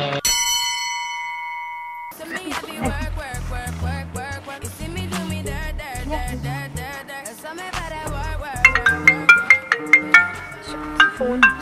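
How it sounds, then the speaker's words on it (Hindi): A mobile phone ringtone plays inside a moving car, a bright chiming melody of bell-like tones that repeats steadily and grows more prominent toward the end, with no talking over it. "फोन बज रहा है।"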